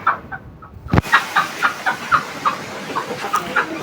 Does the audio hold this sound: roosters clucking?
yes